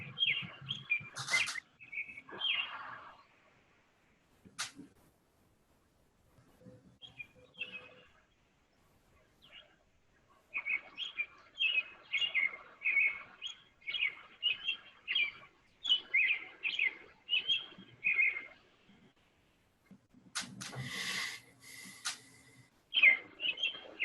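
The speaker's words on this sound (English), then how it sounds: "a video of a robin singing in a tree" A robin singing in a tree, bursts of clear, warbling phrases separated by pauses, fairly close and alone against a quiet background, with a few brief rustles.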